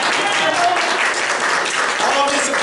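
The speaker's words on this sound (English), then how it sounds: "All of this applause is from you." An audience claps after a mind reader's performance, loud and sustained applause filling the room for a few seconds without a break.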